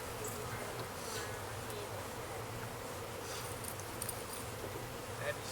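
Bees buzz continuously at close range, a dense steady hum with occasional louder passes near the microphone, with faint activity in the background.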